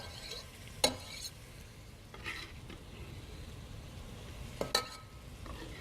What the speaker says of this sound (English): I'm going to get my garlic in here